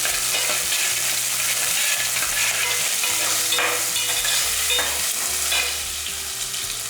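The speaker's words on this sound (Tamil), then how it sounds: "வெங்காயம் தக்காளி நல்லா வதங்கிடுச்சு" Onion and tomato sautéing and being stirred in a pan for a Tamil dried-fish (valai karuvadu) curry, a steady close sizzle with scraping stir strokes throughout and no voices.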